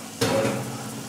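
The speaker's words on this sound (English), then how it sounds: "You hear that sizzle?" A sudden loud sizzle as chicken is dropped into a hot pot, then steady hissing, close by.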